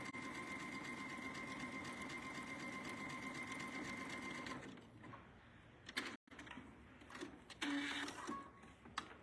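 Sewing machine stitching elastic close to the edge onto a shirt, a steady fast mechanical whir and rapid needle chatter for several seconds, then stopping into softer fabric handling and clicks.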